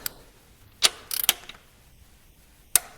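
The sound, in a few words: torque wrench tightening cylinder head bolts on Alfa Romeo GTV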